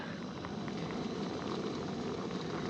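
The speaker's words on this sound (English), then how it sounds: "it's boiling. The clams are opening up." Pot of clams boiling and steaming on a stove, a continuous dense bubbling hiss at steady moderate level, close and alone without voices.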